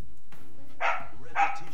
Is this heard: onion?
no